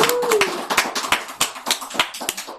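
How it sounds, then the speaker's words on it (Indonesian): Audience applause at a talk-show event, a small group clapping in distinct, fairly close claps with an uneven rhythm, plus a brief tonal sound near the start. "Tepuk tangan dulu untuk Kak Bondan."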